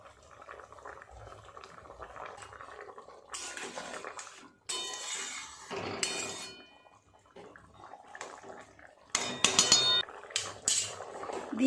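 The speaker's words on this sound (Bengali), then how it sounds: "ঢাকাটা খুলে এবার দেখব কেমন সেদ্ধ হলো।" Metal clinks and clatters from a cooking pot as its lid comes off and utensils knock against it, in short bursts with quieter gaps between, over a faint simmering bubble.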